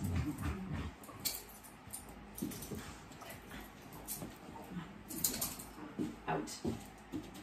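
Dogs whimpering and yipping indoors during a home strength workout, heard as soft intermittent whines and snorts over irregular tapping and clicking noises, fairly close but not loud.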